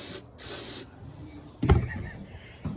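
Short bursts of aerosol spray hissing into the cold engine of a Honda 300 Fourtrax ATV, two close blasts followed by a low thump and rumble.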